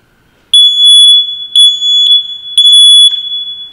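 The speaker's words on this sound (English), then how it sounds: "So what we're going to do is test every smoke alarm in your house" A household smoke alarm sounding while its test button is held, giving three loud, piercing high beeps in a regular rhythm, close and alone with no talk.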